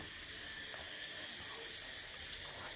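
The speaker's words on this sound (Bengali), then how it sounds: "এখন টুকলো বাবুর জন্য একটু আলু ভাজবো" Potatoes frying in a pan, a steady soft sizzling hiss with faint crackles, constant throughout and alone with no voices.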